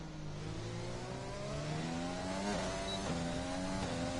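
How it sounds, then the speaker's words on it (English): A Formula 1 car engine in the F1 2020 video game revs steadily with rising pitch at the Bahrain Grand Prix, joined by other engine whines, loud and continuous throughout. "I can now hear my car revving through my headphones"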